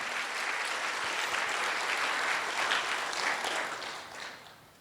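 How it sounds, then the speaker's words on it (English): A hall audience applauds volunteers at a presentation event, a dense, steady wash of many hands clapping that holds evenly for several seconds before tapering off near the end. "can we give a big round of applause for all the volunteers here today?"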